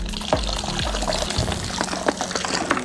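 Water pours steadily into a home brew fermenter for making beer from a kit, a continuous splashing fill with a few sloshing surges.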